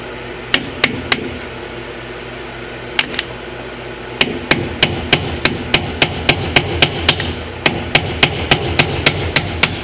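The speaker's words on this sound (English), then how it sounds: "chisel, you can hit the edge of those bolts or screws. You can get them to turn." A hammer strikes a chisel against the edge of a bolt on a 2003 Polaris Sportsman 500 ATV: loud, sharp metallic blows, first in sparse groups, then in a steady, rapid series.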